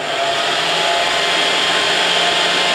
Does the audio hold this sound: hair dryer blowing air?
yes